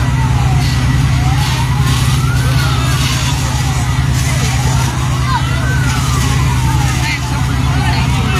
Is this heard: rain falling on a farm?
no